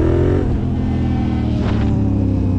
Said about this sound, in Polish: Fajnie ten Raptor zasuwa tak po asfalcie, to jest mega.